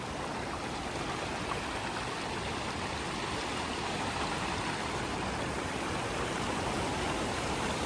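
Rainwater flowing smoothly through a channel after heavy rain, a steady, even rushing wash of water that continues unbroken and fairly soft throughout.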